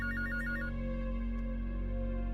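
A phone rings in a TV drama scene, a short electronic ringtone pattern of pulsed tones over a steady low hum, with no one speaking.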